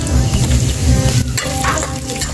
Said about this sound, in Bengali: বাদামটাকে আমি ভালো করে ভেজে নেব।